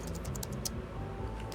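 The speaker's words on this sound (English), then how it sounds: "Yeah, just typing sound effect in here." Quick, light clicks of typing on a computer keyboard form an irregular patter of keystrokes at a soft, close level, with no talking.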